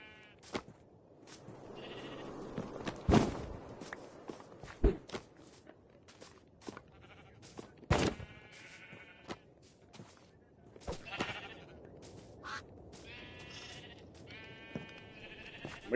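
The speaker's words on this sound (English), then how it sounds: "Guys, look, pink sheep." Pink sheep in Minecraft bleat repeatedly among footstep sounds and sharp clicks, the wavering bleats coming in scattered bursts, some near and some fainter.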